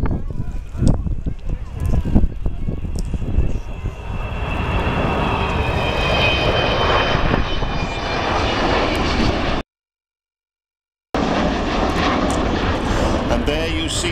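An Avro Vulcan jet bomber makes a low pass at an airshow, a loud, sustained engine roar swelling over several seconds with broad rushing noise, briefly cut off and then resuming.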